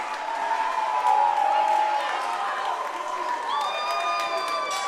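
A boxing crowd on its feet cheers after a knockdown, a loud, dense roar of voices and whistles that holds steady for several seconds.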